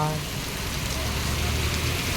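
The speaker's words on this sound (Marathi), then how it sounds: "मित्रांनो पाऊस बघा दुनियाचा होणार" Heavy rain pours steadily outdoors near Rani Baug in Mumbai, a dense continuous hiss that fills the whole moment at moderate loudness.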